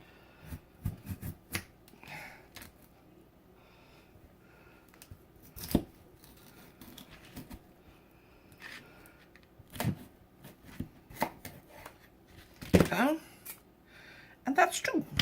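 A knife slices through food being prepared for tilapia fish and chips, giving sharp, sparse cutting clicks and snaps at irregular intervals over a quiet kitchen background, with a person talking at times.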